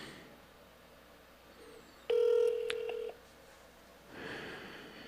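A telephone call is placed, with short dialing tones followed by a loud, steady ringback tone lasting about a second, then quieter line noise and a faint hiss.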